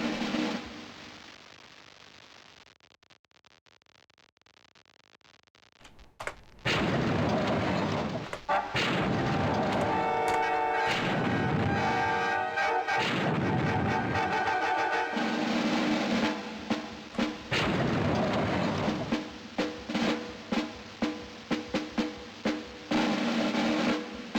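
A straight-firing weapon in the 1998 video game Army Men lets off a series of heavy booming blasts after a quiet stretch, followed by rapid repeated shots and sharp bursts over a dense game backdrop.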